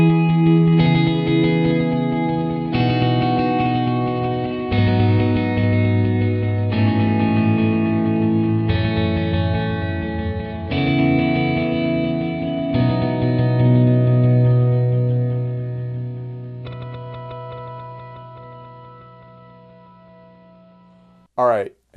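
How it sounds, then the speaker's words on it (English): Electric guitar chords played through a Chase Bliss Mood pedal, swelling into a pulsing, delayed ambient reverb wash; several sustained chords ring out in sequence, loud and layered, before a brief sharp sound at the end. "now that we've heard that sort of pulsing delayed reverb thing"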